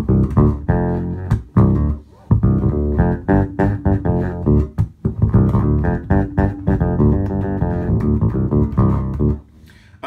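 A punchy bass guitar through an octave pedal with the mid boost engaged plays a busy low riff of quick plucked notes, loud and upfront, ending with a brief pause.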